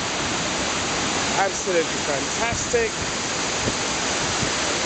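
Steady broadband roar of the Kuang Si waterfall near Luang Prabang, Laos, cascading into pools, loud and continuous throughout, with a man's brief remark heard over the rushing water.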